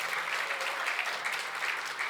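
An audience claps steadily at a National Press Club presidential inauguration, with dense, continuous applause that holds at an even loudness from start to finish.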